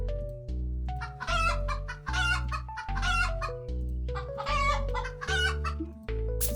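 Giant chickens in a video game cluck and squawk in repeated bursts over looping background music with a steady bass pulse.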